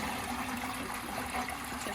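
Water flows steadily through a siphoned garden hose from a container, a faint, continuous trickle heard alone at low volume.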